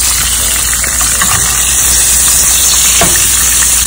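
Beef shank searing in a hot pan over a fairly high flame, a steady close sizzle and frying hiss running the whole time, with a faint stir or scrape near the end.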